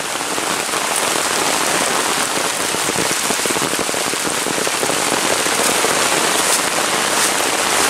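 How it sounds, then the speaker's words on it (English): Heavy, steady rain pours down in a dense, continuous hiss and patter on surfaces close by, with no talking. "Loving this rain."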